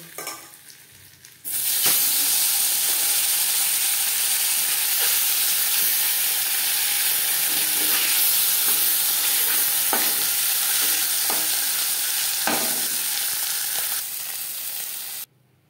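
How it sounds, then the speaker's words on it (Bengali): Bata fish frying in hot oil in a kadai: a loud, steady sizzle and hiss that starts abruptly and holds for about thirteen seconds, with occasional stirring clinks and no talk. "মাছ ভাজা হয়ে গেছে,"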